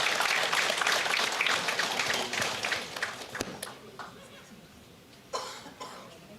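Applause fills an evening company success meet, dense clapping from an audience that thins out and fades after a few seconds, with scattered coughs and a few late claps.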